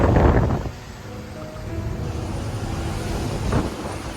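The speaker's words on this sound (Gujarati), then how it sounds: "જો ફૂલ પવન ચાલુ થઈ ગયો." Strong wind gusts roar over a road in a Maharashtra ghat during rain, loud broadband rushing with swells near the start and end, no speech.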